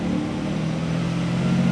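A 2JZ-powered Lexus SC300 with its factory five-speed runs on a dyno, its engine droning steadily and loud at close range with a low, even tone that swells slightly near the end as it pulls in second gear.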